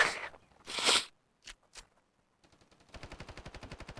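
Gunfire in the mobile shooter game Standoff 2: a couple of loud single shots and brief clicks, then a rapid automatic burst of evenly spaced shots near the end, with no talking.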